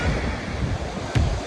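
Surf washes ashore at Myrtle Beach with a steady roar of breaking waves, mixed with gusty wind buffeting the microphone, and one short surge near the end.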